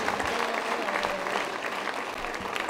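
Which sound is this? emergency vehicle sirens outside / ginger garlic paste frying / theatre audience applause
theatre audience applause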